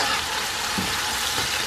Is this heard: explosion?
no